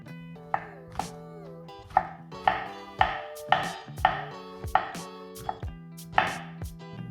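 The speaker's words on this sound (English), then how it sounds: "let's get into these Portabello mushrooms. Just making it real simple with the choppings" Portobello mushrooms chopped with a knife on a board, about a dozen crisp even thuds roughly half a second apart, close and clear over a faint tonal hum.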